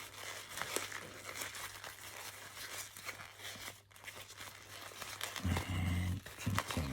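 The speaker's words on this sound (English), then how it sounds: "Fold down that edge, hold it," Cotton fabric wallet being folded and pressed by hand, giving soft, close rustles and crinkles with faint taps, quiet and intermittent throughout.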